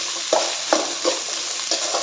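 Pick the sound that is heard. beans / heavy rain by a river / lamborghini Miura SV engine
beans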